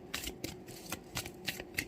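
Tarot cards drawn and handled from a deck during a pick-a-card reading, a series of soft close papery flicks and slides, about half a dozen quick strokes, quiet and alone.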